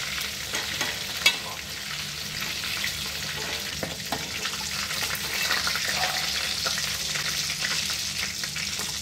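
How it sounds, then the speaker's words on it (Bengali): Egg-coated chicken pieces fry in hot oil at home, giving a loud, continuous close sizzle with a dense crackle and occasional clinks of stirring, without any talk. "বাকি চিকেনগুলো ডিম থেকে তুলে তেলে দিয়ে ভেজে নেব।"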